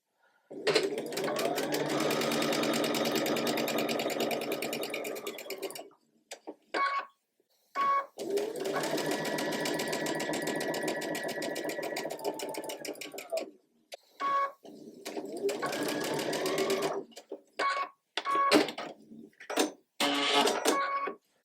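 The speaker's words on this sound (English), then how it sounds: "We're going to nest up the seams and sew." A sewing machine stitches quilt block seams in long rapid runs separated by pauses and short bursts, close and steady, with no talking.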